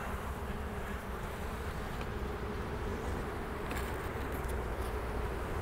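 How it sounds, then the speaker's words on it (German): Honeybees buzz in a dense, steady drone while a beekeeper works an open hive in July, the hum continuous and close, with no talk. "So, das sind die gesiebten Bienen."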